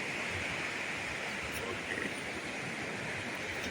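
A river of mountain water flowing down from Manikkara rushes steadily near a bridge, a continuous broadband wash heard at moderate distance without clear voices.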